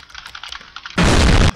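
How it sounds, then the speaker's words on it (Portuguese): Keyboard typing in the video game Emily is Away, a rapid run of light clicks, then a sudden loud burst of dense noise that cuts off sharply. "Tem que ficar batendo no teclado aqui."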